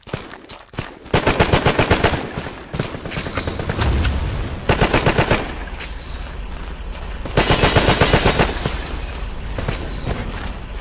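Rapid automatic gunfire and booming shots from Colombian guards in the 2006 PC shooter Terrorist Takedown: War in Colombia, loud bursts repeating through the whole stretch with short pauses between volleys.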